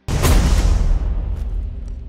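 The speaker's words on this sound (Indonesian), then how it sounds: "Leo langsung melepaskan tembakan untuk membunuh Carlos dan anak buahnya" A single heavy blast opens the scene in an action film, a sharp deep boom that rolls off into a long fading rumble, with faint rattles trailing after.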